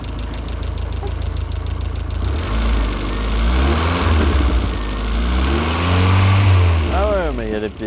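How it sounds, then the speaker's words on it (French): A warm Renault R21 Turbo Phase 2 engine revs through its exhaust, rising and falling in pitch over a steady rumble, close and loud, with rapid blips of the throttle near the end. "On entend bien l'échappement."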